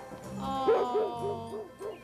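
A dog barks and yips in a children's television comedy sketch, a short run of rhythmic, whimpering, sing-song barks that may be a voice imitating a dog, moderately close with no clear talk.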